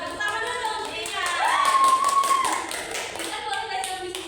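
Classroom group clapping hands for a student, a run of quick overlapping claps at moderate volume with a voice rising over the middle of it.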